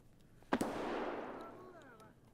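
A single gunshot in the shooter game Escape from Tarkov cracks sharply, then rolls away in a long fading echo, distant and faint.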